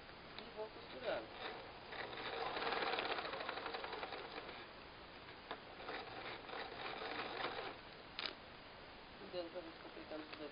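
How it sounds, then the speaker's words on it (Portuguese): A sewing machine stitching along a line on a paper-pieced heart, faint rapid mechanical chattering in short runs with pauses, while someone talks quietly. "Eu vou na máquina e vou passar uma costura aqui."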